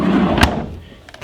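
A freezer drawer in the kitchen of a Keystone Residence 40 LOFT RV slides and shuts with a single sharp thud, followed by a faint rattle as the cabinet settles.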